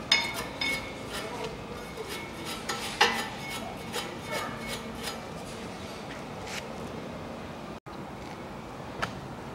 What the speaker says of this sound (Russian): чищу сами скобки и чищу под скобками все по очереди